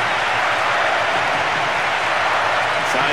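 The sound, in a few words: stadium crowd cheering in World Soccer Winning Eleven 10 video game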